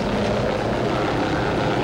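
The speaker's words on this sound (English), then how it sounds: "National Guard helicopters have been rushed into service in extreme emergency cases." A National Guard helicopter flies over a snowbound city during the Blizzard of '78 in Providence, its rotor and engine a loud, steady, unbroken roar with no voices.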